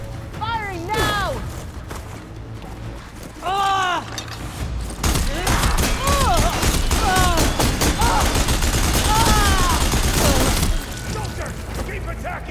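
Gunfire in the Horizon Forbidden West video game, a busy battle of repeated shots, bursts and impacts building to a loud sustained barrage, with chirpy machine cries sweeping through and a voice talking in the fight.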